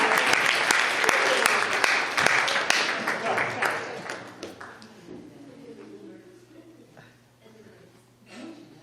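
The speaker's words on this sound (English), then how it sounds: "let's give her another round of applause" A church congregation breaks into applause that starts full and busy, then thins out and fades over several seconds, with a voice speaking as it dies away.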